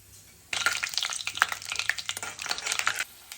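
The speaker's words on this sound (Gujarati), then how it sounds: "1 ચમચી જેટલા સિંગદાણા લીધા છે। તો તેને પણ થોડા સાંતળવાના છે" Peanuts and mustard seeds frying in hot oil in a kadai, starting abruptly into a busy crackling sizzle with rapid pops, fairly faint and with no voices.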